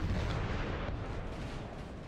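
Artillery fire in the Napoleonic-era battle game Napoleon Total War, a dense, continuous rumble of distant cannon booms blending into one heavy roar with no voices.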